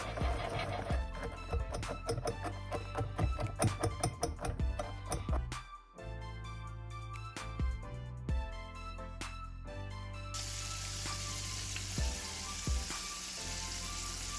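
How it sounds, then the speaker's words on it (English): Chicken fries in a cast iron skillet, busy sizzling and crackling with many sharp ticks and taps layered over it, then a steadier hiss near the end. "we're frying our chicken up right now for our chicken and waffles"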